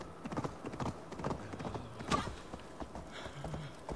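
Horse hooves clip-clop in the Assassin's Creed Valhalla video game, a quiet, uneven run of hoofbeats with a brief whinny partway through.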